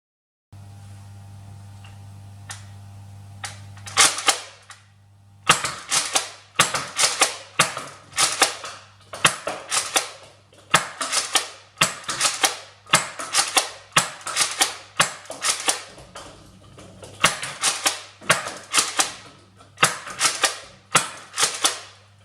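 Nerf Elite Surgefire blaster firing foam darts: a hum runs under a long, steady series of sharp mechanical clacks, about fifteen shots in quick succession, with close, dry snaps.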